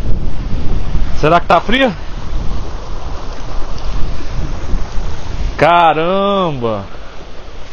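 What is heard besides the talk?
waterfall roaring in Iceland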